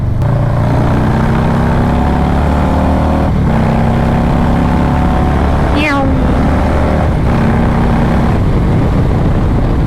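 A sport bike engine drones steadily and loud, revving up in a couple of surges, with wind rushing over the microphone throughout.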